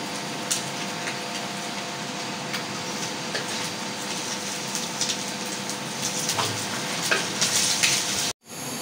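Fried baim fish is lifted out of a pan of hot oil as a continuous close sizzle and frying hiss goes on, broken by small scraping clinks, then a sudden brief cut near the end.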